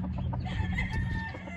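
A young farm rooster crows and clucks close by in a short, fairly quiet burst, with the rough call of a bird not yet fully grown.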